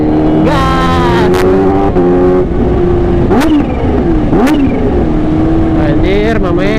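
A Kawasaki H2 motorcycle engine revs hard and close, its harmonic whine rising and falling through several throttle blips, with voices talking over it.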